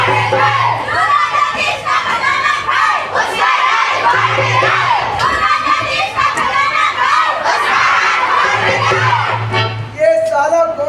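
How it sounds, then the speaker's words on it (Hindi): A large crowd shouts and chants in protest against a minister-king over an emptied treasury in a staged village play, a loud, continuous roar of many voices with bursts of raised cries, heard close and sustained throughout. "ये साला कौन चिल्ला रहा है?"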